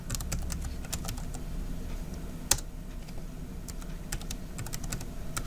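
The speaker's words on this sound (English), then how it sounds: "Of course, I'm typing in my password" Password typed on a computer keyboard during a git push, a steady run of quick light key clicks with one sharper tap near the middle, close and alone against a quiet room hum.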